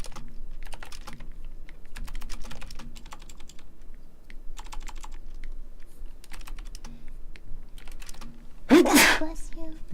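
A single sharp, loud sneeze bursts out near the end, close by, over steady clacking on a computer keyboard in a home game-development setup.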